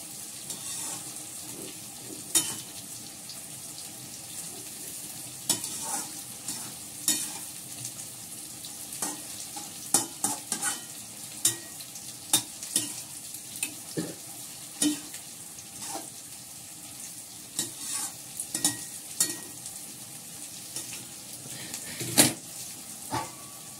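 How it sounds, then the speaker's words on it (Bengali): Slices of bitter gourd fry in a pan with a steady, close sizzle, broken by frequent sharp clicks and scrapes of stirring throughout, with no voices. "এখানে করলা ভাজা বসিয়ে দিয়েছি,"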